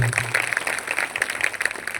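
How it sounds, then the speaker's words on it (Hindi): A church congregation at a Christmas celebration claps loudly on request, a dense, sustained burst of many hands ringing out across the hall with no voices over it. "इनके लिए भी आप ताली बजा दीजिए जोर"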